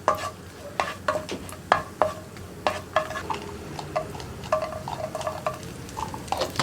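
Cashews and raisins fry in a pan while a utensil stirs them, giving a steady series of scraping clicks and taps over a soft sizzle, close and moderately loud, with no talking.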